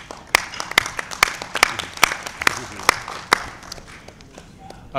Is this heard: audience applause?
yes